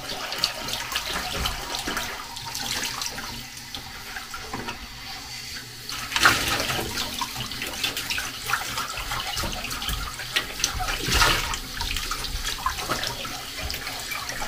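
Water runs steadily from a hot-water kitchen tap while dishes are washed with an eco detergent, a continuous broadband splashing stream with a few louder gushes and clinks, no voices.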